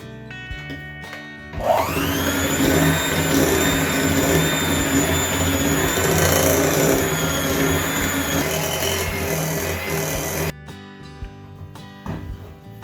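An electric mixer whirs continuously through banana bread batter for about nine seconds, a steady loud motor whine that starts abruptly and cuts off sharply.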